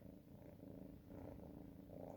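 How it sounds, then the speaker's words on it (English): A kitten named Risol purrs softly and steadily up close, a low continuous rumble heard alone with no talking. "This is my kitten."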